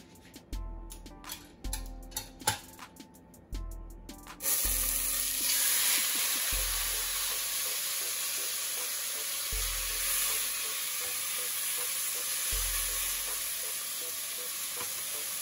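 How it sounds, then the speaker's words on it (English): Ribeye steak drops into a preheated oiled cast iron pan and sears with a loud, steady close sizzle that follows several brief knocks and clatters. "So now we're gonna get the steak in there and get a nice sear."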